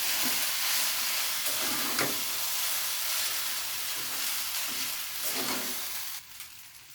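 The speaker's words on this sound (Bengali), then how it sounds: "তখন নুডলসগুলো দিয়ে দেবেন দেওয়ার পর নাড়াচাড়া করবেন" Stick noodles fry in a pan over low flame, a continuous soft sizzle and hiss punctuated by several stirring scrapes, fading slightly toward the end.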